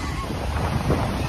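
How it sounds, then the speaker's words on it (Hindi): Big, fast ocean waves rushing onto a beach in Goa, a steady broad roar with wind buffeting the microphone, close and loud with no talking. "वेव्स काफी बड़ी है और बहुत फास्ट भी है।"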